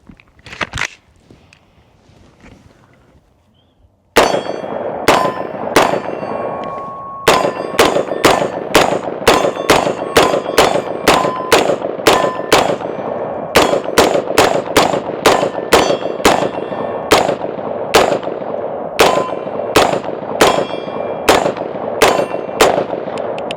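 A 7.5-inch AR pistol fires Winchester ammunition at steel targets: after a quiet start, about 30 loud, sharp shots ring out in a steady, evenly spaced string, each with a metallic clang from the steel, and no talking.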